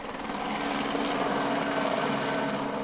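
A patrol helicopter flies over the beaches of Western Australia, its steady, droning rotor and engine noise holding at a constant moderate level throughout, with no voices.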